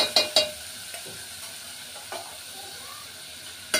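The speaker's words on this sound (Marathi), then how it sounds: "हे सगळं आपण मिक्स करून घेऊया." Chopped onion and tomato stirred in a frying pan, with a few sharp spoon scrapes and taps against the pan over a soft, faint sizzle.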